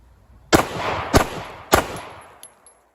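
Three dry-fire trigger clicks from a pistol shot one-handed during Mantis dry-fire training, sharp and loud, evenly spaced about half a second apart, each ringing briefly before silence.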